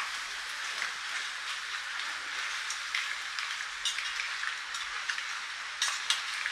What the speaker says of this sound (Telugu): ఈ విధంగా పీతలు వేసుకొని ఈ విధంగా కలుపుకోండి.